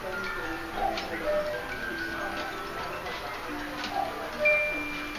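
A German-style cuckoo clock ticks in a steady, close rhythm, with faint tonal chimes and soft room noise behind it.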